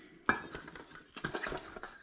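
Well-seasoned metal baking pans for buns clatter and clink as they are handled and oiled, one sharp knock followed by a cluster of lighter metallic rattles and taps, fairly close and moderately loud.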